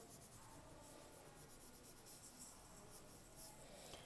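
Pencil edge shading across paper while drawing donut op art, a steady soft scratchy rubbing that continues close and quiet throughout with no talk.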